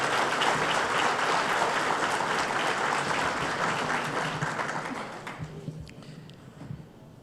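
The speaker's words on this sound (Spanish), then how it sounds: "pedir al público un fuerte aplauso al equipo de la organización" Audience applause for the organising team at a higher-education panel session, a dense, loud round of clapping that sustains for several seconds and then tapers off toward the end.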